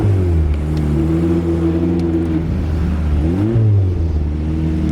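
A 2004 Toyota Celica GT-S Tsunami Edition with a 6-speed manual gearbox pulling away, its engine droning loud and steady from inside the cabin, pitch rising and dropping with brief revs and shifts.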